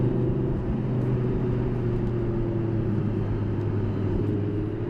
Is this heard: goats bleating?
no